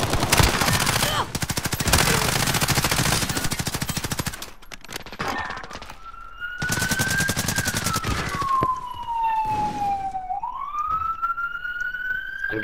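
Bursts of rapid automatic gunfire, close and loud, fill a Modern Warfare Search and Destroy match, separated by short lulls. A rising and falling siren-like tone sounds through the second half.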